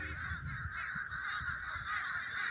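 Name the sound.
flock of crows cawing outdoors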